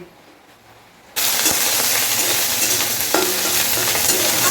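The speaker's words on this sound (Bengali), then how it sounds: "জিরে আর শুকনো লঙ্কা ফোড়ন দিয়ে ভেন্ডিটা ভেজে নিচ্ছি" Okra hits hot oil with a cumin and dried red chilli tempering, and a loud, close sizzle bursts in abruptly after a quiet start, then keeps crackling steadily as it is stirred, with a clink of a utensil against the pan.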